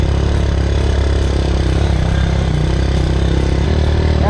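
An old motorcycle rides a rough hiking trail at Danabari near Dharan, its engine chugging loud and close and steady with a dense rumble and some clatter, and no one speaks.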